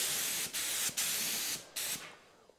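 Spray gun dusting primer coats onto a car hood: repeated short hissing bursts of air and paint, about four passes with brief breaks between them, close and moderately quiet.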